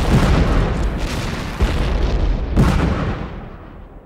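Film sound effect of an artillery bombardment on enemy positions in a war drama set during the Japanese invasion, with heavy, dense booming explosions layered into a continuous roar and a final blast fading away.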